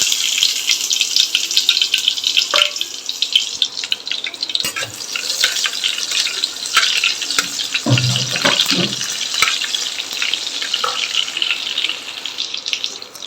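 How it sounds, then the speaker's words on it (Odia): Chopped onions dropped into hot oil with mustard seeds set off a steady, close sizzle and crackle, with the odd clatter and stirring scrape partway through and no talking. "ତାପରେ ପିଆଜ ପକେଇ ନେବା।"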